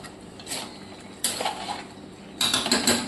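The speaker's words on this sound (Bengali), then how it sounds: "আরেকবার ঢেকে দিচ্ছি" A metal lid goes onto a cooking pan of chicken, with several short clanks and scrapes in quick bursts, close and fairly loud, with no speech.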